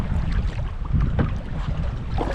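Steady wind buffets the microphone with a low, rumbling roar, gusting throughout with faint water sounds beneath.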